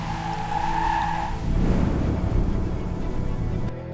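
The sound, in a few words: car brakes screeching sound effect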